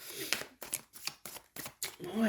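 A deck of cards is shuffled up close in a string of quick, crisp riffling bursts separated by short pauses, with some faint vocal sounds mixed in.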